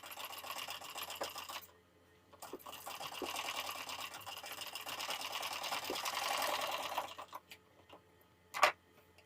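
Sewing machine stitching a straight seam on a blouse strip, two bursts of fast rhythmic needle clatter separated by a short pause, close and clear, ending with a few handling clicks.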